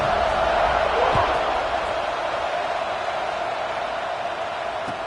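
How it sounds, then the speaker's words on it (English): A football stadium crowd at a Nebraska versus Michigan game keeps up a steady, loud, diffuse roar of massed voices, with scattered distant shouts and a few sharp thuds within the continuous buzz. "this crowd is buzzing after that last score."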